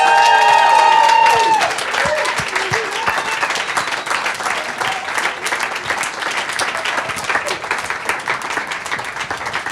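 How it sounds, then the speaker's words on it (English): An audience breaks into loud cheering and steady applause as a guitar is picked up at a live event with Johnny Marr, dense clapping that stays strong throughout after a brief tonal sound at the start. "People cheering a guitar as it's picked up."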